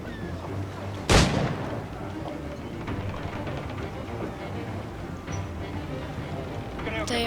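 Gunfire in the pirate video game Assassin's Creed IV Black Flag: one loud, sharp shot rings out early, followed later by fainter shots over a steady bed of game ambience.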